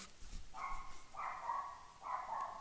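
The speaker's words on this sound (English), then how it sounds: "if you can hear a dog, that's my roommate, Kenya." A dog barks indoors in the background, three fairly faint, evenly spaced barks with a slightly whiny tone.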